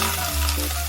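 Chopped onions hit hot oil already holding cardamom, cinnamon, bay leaf and cumin for a North Indian chana masala, setting off a loud, steady close-up sizzle that swells as they land.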